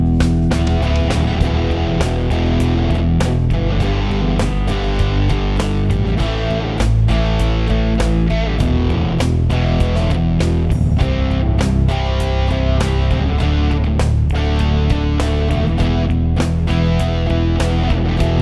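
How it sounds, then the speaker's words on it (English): An electric guitar plays a rock riff through a distortion effect, picked with a harder attack, loud and dense with sharp repeated strikes throughout and no voices. "start to attack harder to get the distortion out more"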